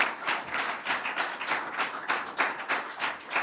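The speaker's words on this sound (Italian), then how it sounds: "Un bel applauso per tutto l'impegno." Applause for an Under-18 junior rugby team crowning as Italian champions, a steady crowd of many hands clapping in a dense, continuous patter at moderate distance, with no speech over it.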